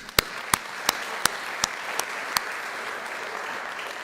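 Faint applause rolls through the hall at a community college alumni induction ceremony. Seven sharp, evenly spaced claps stand out in front, each a little softer than the last, before they stop and the quiet clapping carries on alone.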